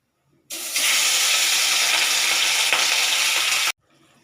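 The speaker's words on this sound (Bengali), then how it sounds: "এবার এক এক করে মাছগুলো ভেজে নেব।" Fish sizzling loudly in hot oil, an intense crackling hiss that starts abruptly, holds steady for about three seconds, then cuts off.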